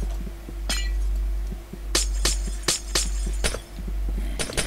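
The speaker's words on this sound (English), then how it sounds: "it says break every piece of glass" Minecraft glass blocks being smashed one after another, bright clinking breaks arriving in quick irregular bursts, close and clear over a low droning background.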